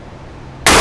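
Right barrel of a double-barrel shotgun with 28-inch barrels fired at a patterning range, a single loud broadband blast that erupts abruptly after quiet room hiss and fills the end of the clip.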